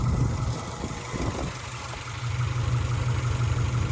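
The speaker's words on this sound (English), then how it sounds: "So it runs and idles fine" A Subaru engine idles steadily and a little rich, a close, continuous low rumble with a brief dip in level midway before settling back to an even hum.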